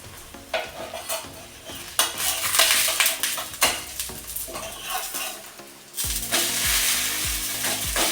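Breadfruit dosa batter frying in coconut oil on a pan, a steady close sizzle with scraping and clinks of a utensil against the pan, growing louder and busier toward the end.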